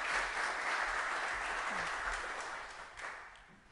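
An audience applauds at a talk on religion and sexual revolutions, welcoming speaker Rebecca Davis; steady, dense clapping fills the room, then tapers off toward the end.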